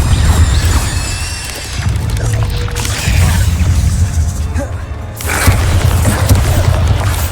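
An Incendio fire spell cast again and again in a video game, a loud, dense whooshing burst of flame with heavy booming low rumble that runs nearly continuously, dipping briefly before flaring up again.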